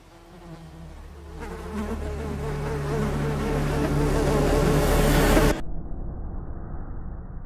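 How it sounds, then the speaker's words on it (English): Insect buzzing, as from mosquitoes, swells steadily louder and closer for about five seconds before cutting off abruptly, leaving a faint low background. "Don't give Zika a biting chance, Texas. Protect yourself from mosquitoes."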